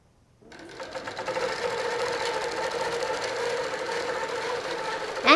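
A quilting sewing machine runs continuously while stitching a quilt section, a fast steady mechanical whir and needle rattle that starts after a brief pause and holds at moderate loudness.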